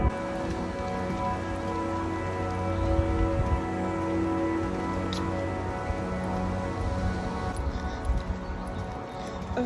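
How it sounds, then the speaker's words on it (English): Steady rain falls and patters on surfaces close by, constant throughout, with a faint low hum underneath. "Of course it's fucking raining."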